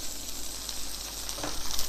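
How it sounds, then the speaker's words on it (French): Duck breast seasoned with salt, pepper and maquis herbs sears in a frying pan, giving a steady close hiss of sizzling fat with a few brief crackles and no voices. "Nous allons venir roussir la viande à la poêle"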